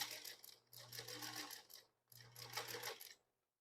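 A sewing machine stitches overlapping quilt pieces in two quick bursts of rapid, even needle chatter separated by a short pause, quiet and close with no voices.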